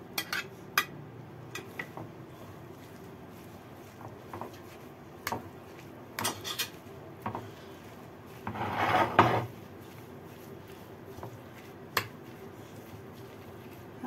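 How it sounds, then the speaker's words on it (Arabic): Chopped onion and parsley, about three large onions and a bunch and a half of parsley, being mixed by hand in a bowl make soft, intermittent squishing and rubbing sounds with occasional clicks, fairly quiet and close, with one longer burst of rustling midway. "هقلب المكونات كويس"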